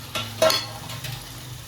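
Tomatoes go into hot oil in a pan for a Bengal gram-flour fish curry, giving a brief close stir with soft sizzling and a scrape of a spoon.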